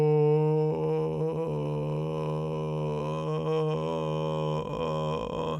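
A relaxed singing voice sustaining a low subharmonic tone that edges toward vocal fry, a steady buzzy drone held for several seconds with slight crackling shifts, close and alone.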